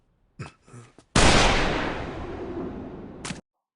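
A single loud gunshot rings out in the anime 91 Days, a sharp blast with a long decaying tail lasting about two seconds, preceded by a few brief soft sounds.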